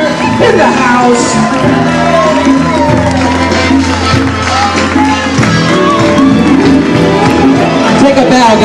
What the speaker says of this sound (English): Once again, a round of applause for our bride and groom